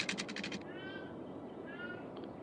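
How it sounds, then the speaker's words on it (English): A pet cat meows a few times in drawn-out, complaining cries, preceded by a quick run of sharp clicks, fairly faint indoors with no voices. "do you hear my cat? She's just having a terrible, terrible time"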